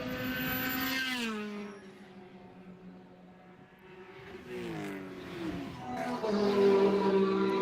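Race cars, including a Supra, roar through the carousel at Mid-Ohio during a WRL endurance race, a loud engine drone sliding down in pitch as one passes, then rising again as another car accelerates.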